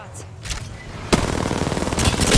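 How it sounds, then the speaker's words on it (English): Rapid automatic gunfire in the Apex Legends video game, a loud, dense stream of shots that starts abruptly and keeps firing to the end, with no voices. "Why is he shooting me?"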